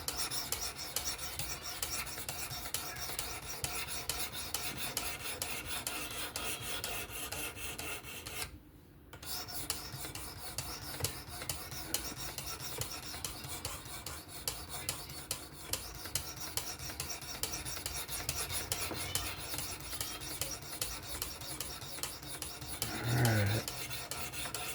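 Vosteed Acorn knife with a 14C steel blade being sharpened on a WSPro guided sharpener, a steady continuous rasp of stone strokes against the edge at close range, with no voices.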